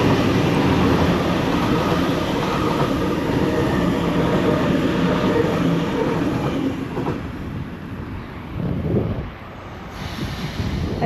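A Sydney A set electric train runs through Summer Hill station, its loud steady rumble and wheel roar filling the scene before easing and fading toward the end, with no one speaking.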